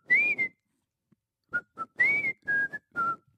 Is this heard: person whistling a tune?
yes